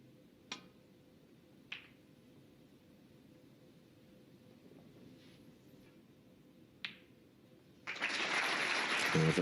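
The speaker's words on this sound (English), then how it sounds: "The applause, and it was justified, but it still wasn't good enough to keep Trump at bay" Applause from a snooker match audience breaks out near the end, a broad steady patter of clapping that follows a quiet stretch marked by a few isolated sharp ticks.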